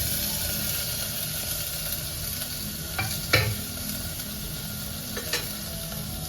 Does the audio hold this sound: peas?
yes